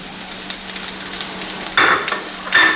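Chopped red pepper hits a hot pan for a loud, close sizzle, with two bursts of scraping as it is stirred around.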